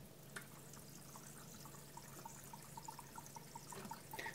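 A dry Chinese whetstone soaking in water releases a soft, steady run of tiny bubbling pops and ticks, faint and close, over a low background hum.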